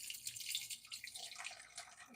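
Water pours into a container while cooking with matcha, a light splashing trickle with brief drips, close and fairly quiet, no voices.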